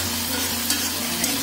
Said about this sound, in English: Look at the oil, it's frying, it's getting fried.